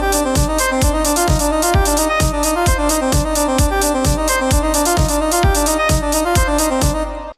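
A step sequencer pattern in the StepPolyArp 6 app plays alone: a steady, driving loop of evenly spaced synth notes with a punchy low beat on every step, loud and continuous throughout.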